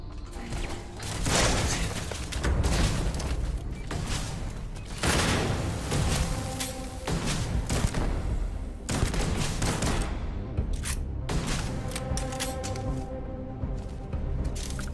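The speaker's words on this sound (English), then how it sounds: "The turret guns." Turret guns in Starfield open fire in rapid, continuous bursts with clattering mechanical rattles, loud and close throughout with only brief dips in intensity.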